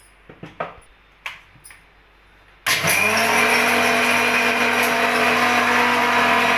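Mixer grinder grinding spinach leaves to a powder: a few handling clicks and taps, then the motor starts abruptly into a loud, steady, high-pitched whirring that runs to the end.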